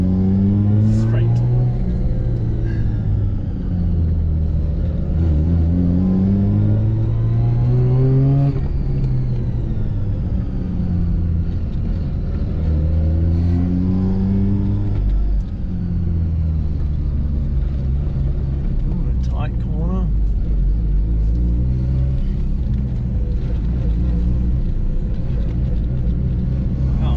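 A Mazda RX8 races a tarmac rally course at Sydney Motorsport Park, its engine revving up and down repeatedly through gear changes, loud and close from inside the car, with voices talking over it.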